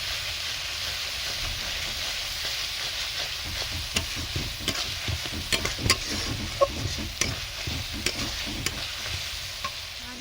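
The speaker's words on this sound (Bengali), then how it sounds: "লঙ্কা এবং মশলার সঙ্গে ভালোভাবে কষে নিয়েছি" Whole dried red chilies and garam masala stir-fried in oil in a pan for a Bengali chicken kosha, a steady sizzle under repeated scraping stir strokes, close and moderately loud throughout.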